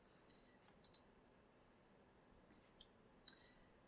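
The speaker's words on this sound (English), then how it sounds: "we can click there, or we can click over in the menu" Computer mouse clicks while navigating menus in Notion: a few sharp, isolated clicks, including a quick double click, spaced apart over quiet background.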